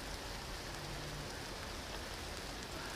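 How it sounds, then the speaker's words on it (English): Steady rain falls around a hammock campsite in the woods, a dense, even hiss of drops on leaves and tarp that stays close and constant throughout with no voices. "Yep, rain again."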